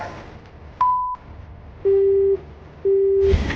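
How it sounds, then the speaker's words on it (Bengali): A phone call cut off, followed by a busy tone: three loud, clean electronic beeps, the first higher and shorter and the next two lower and longer, separated by faint background noise. "আবারও কলটা কেটে দিল"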